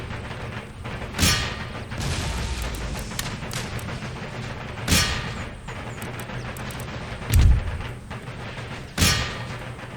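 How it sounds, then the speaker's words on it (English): Musket volley fire in the PC strategy game Empire: Total War, heard as four distinct booming volleys spaced a few seconds apart over a steady roar of battlefield din. "Oh, it's a good volley right on them."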